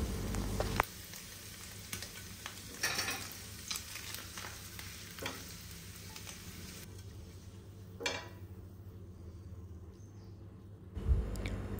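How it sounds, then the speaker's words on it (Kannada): Paneer fries in butter in a pan with a constant soft sizzle, broken by occasional scrapes and turns of a spatula, steady and close, before the sizzle thins out near the end. "ಪನ್ನೀರ್ ಆಲ್ಮೋಸ್ಟ್ ಫ್ರೈ ಆಗಿದೆ"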